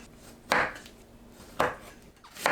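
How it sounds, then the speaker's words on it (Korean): A knife halving cherry tomatoes on a cutting board, two crisp separate chops about a second apart, close and fairly quiet with nothing else around them. "방울토마토를 반으로 자릅니다"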